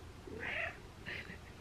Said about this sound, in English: She does these certain little meows when she's really happy.